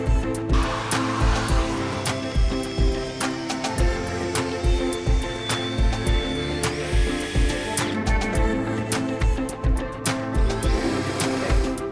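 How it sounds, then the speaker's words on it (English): An electric paddle mixer churns gypsum joint filler in a bucket in a small room, a steady close motor whine with rhythmic knocking and scraping pulses throughout. "I'm just going to mix up some joint filler now, just for the pre-filling."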